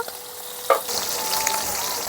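Hot oil sizzles and spatters around frying bacha fish, a constant hiss with one sharper pop early on.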